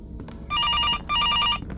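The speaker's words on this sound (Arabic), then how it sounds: "هو هنا الموبايل بيرن هنا." A mobile phone rings in a horror video game with two long electronic ring bursts, each about half a second, separated by a short pause, standing out over a low dark ambient hum.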